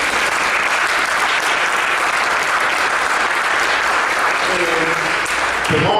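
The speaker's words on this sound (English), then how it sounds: "we just want to give her another round of applause" A storytelling event's audience breaks into steady, dense applause, close and loud, with some voices mixed in throughout.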